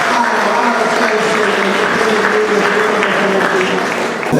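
A church congregation claps steadily together, a sustained wash of applause filling the room with a voice faintly audible underneath.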